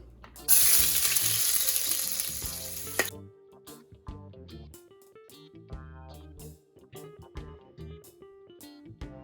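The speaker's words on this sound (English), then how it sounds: "I'm going to place my garlic into my oil." Garlic drops into very hot oil on a stove and bursts into a loud, crackling sizzle for a few seconds, then fades to sparse pops and light clinks of stirring.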